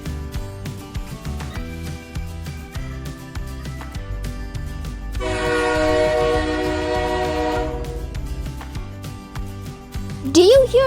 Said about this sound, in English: That sounds like a train passing by.